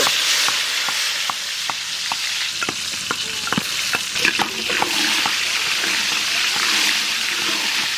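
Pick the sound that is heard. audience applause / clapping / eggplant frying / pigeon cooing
eggplant frying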